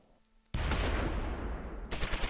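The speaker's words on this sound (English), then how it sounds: "Open up on them. Drop some mortars." Gunfire and mortar fire in the Close Combat IV wartime strategy game: a quiet stretch, then a sudden loud, dense barrage of overlapping shots and blasts that holds steady, with a sharp fresh burst near the end.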